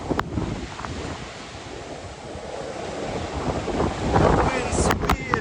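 Strong hurricane wind in Falmouth, Jamaica, buffets the microphone with a constant rushing roar that swells toward the end, and a voice talks faintly in the background.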